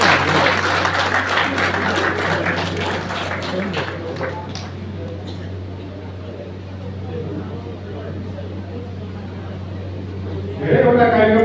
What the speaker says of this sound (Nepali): विश्वचन्द्रलाई ताली बजाएर सम्मान गर्नु